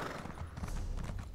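Horse hooves clip-clop steadily as a mount is ridden in the Elder Scrolls Online video game, a continuous rhythmic trotting pattern at moderate level with no talk.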